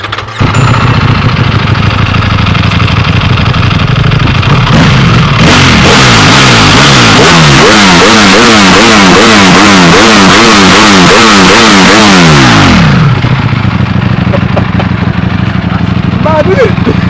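A Ducati Panigale V2 in race mode revs hard, its pitch climbing and falling in repeated sweeping bursts for several seconds before settling back to a loud idle, with voices talking over it.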